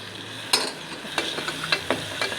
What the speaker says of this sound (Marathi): आता पिवळी पाच मिनटं तेलामध्ये कच्चा लसूण टाकून थोडा वेळ शिजून घ्यायचं आहे